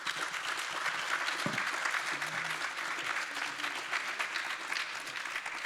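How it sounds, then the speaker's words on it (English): An audience at a regional fintech ecosystem panel event applauds for several seconds, a dense, even wash of clapping heard from a moderate distance with no voices over it. "please give these guys a round of applause"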